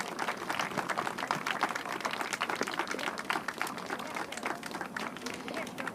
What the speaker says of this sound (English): Please join me in another round of applause as the flag has been raised here at Parliament Hill.